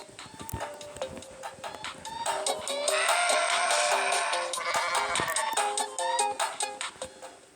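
A goat in Goat Simulator bleats repeatedly in quavering, nasal cries, one long sustained bleat in the middle, with small clicking taps scattered around it.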